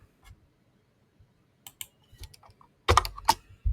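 Keystrokes on a computer keyboard: sparse, scattered clicks that build to a dense, louder burst of typing near the end, close up with no talk.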